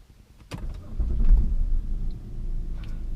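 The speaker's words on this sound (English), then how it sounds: "Let's hear how the car starts." A 2005 BMW 525xi E60 engine with 191,000 miles cranks with a sharp click, then catches and settles into a low, steady idling rumble close by.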